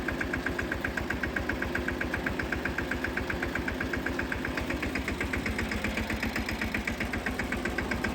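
A tractor engine runs steadily at idle, a low rhythmic chugging throb that stays loud and even throughout, with no voices.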